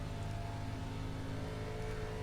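ARCA Menards Chevrolet Impala race car in a racing video game, a steady droning engine note with layered harmonic whine, held at constant pitch and moderately loud.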